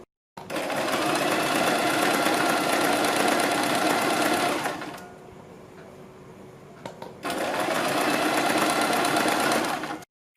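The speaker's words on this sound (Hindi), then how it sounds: "सीधी सिलाई लगा देनी है यहाँ तक" A sewing machine runs a straight seam on fabric, whirring loudly and steadily for several seconds, pausing briefly, then stitching again at the same close, even pace.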